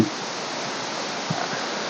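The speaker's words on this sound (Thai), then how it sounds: "ผมมองว่าเป็นน้ำตกที่อ่าสวยที่สุดนะครับ" Tad Pheung waterfall, one of a group of seven falls at Pakxong in Champasak, Laos, roars as a dense, constant broadband rush of water, loud and unbroken, with a couple of faint thumps and no speech.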